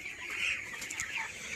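Twenty-one-day-old broiler chickens cluck steadily and softly at a poultry farm, a continuous faint flock chatter with no talk over it.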